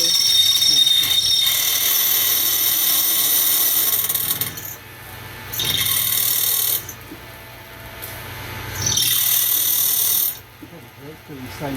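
A drill bites into stainless steel while a model stationary steam engine is being made, giving a loud grinding whine in several long bursts broken by short pauses.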